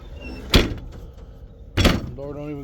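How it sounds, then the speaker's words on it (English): The door of an old semi truck abandoned for years slams shut twice, two loud hollow thuds about a second apart, with a voice starting to talk after the second. "Door don't even close."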